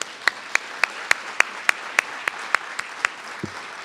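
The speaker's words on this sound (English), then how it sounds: "One more round of applause." About a dozen sharp, evenly spaced claps ring out alone in a quiet room, a thin round of applause for election candidates that slows and fades toward the end.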